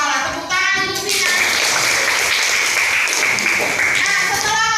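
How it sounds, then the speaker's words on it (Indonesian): Classroom applause for a student, a dense burst of clapping from a room of pupils lasting several seconds, loud and close, with children's voices around it before and after. "Tepuk tangan untuk Vina."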